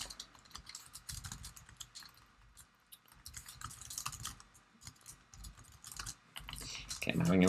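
Rapid, irregular clicking of computer keys being typed in bursts while writing code, close and fairly quiet, with short pauses between runs.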